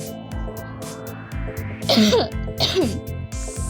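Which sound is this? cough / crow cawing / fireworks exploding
cough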